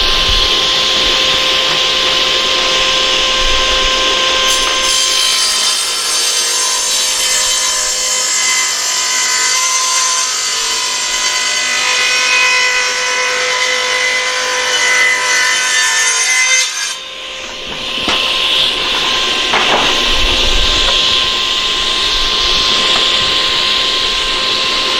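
A power saw cuts through a timber for a backyard pavilion, a loud, steady whining cut lasting about twelve seconds that ends abruptly, followed by the motor revving down and then spinning up again.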